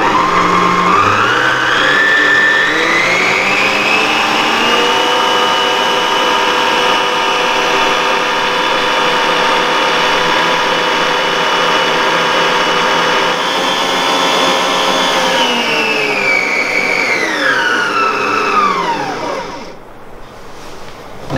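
A stand mixer fitted with a balloon whisk runs continuously, a loud steady motor whine rising in pitch as it speeds up, holding steady, then winding down near the end.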